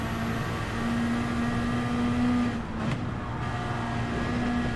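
Subaru BRZ engine in Gran Turismo 7 racing at the Nordschleife, a steady sustained drone with a brief dip midway, continuous and close throughout without any voices.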